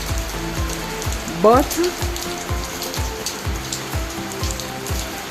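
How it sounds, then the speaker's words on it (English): Heavy rain from Hurricane Beryl falls continuously as a dense hiss of drops on surfaces, with a regular low knocking rhythm underneath and a brief tonal sweep near the middle; a voice speaks briefly. "At the moment guys, we are having a lot of rain."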